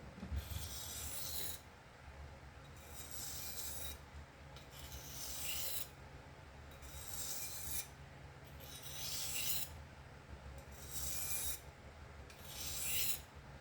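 A Spyderco Paramilitary 2 knife with an S110V steel blade is drawn back and forth across a sharpening stone in regular, evenly spaced rasping strokes, about seven passes, close and clear with no talk.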